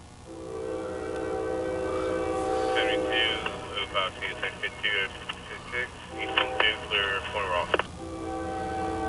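A CSX Q372 mixed freight train rumbles past with its horn sounding repeatedly in long and short blasts over the steady roll of the cars.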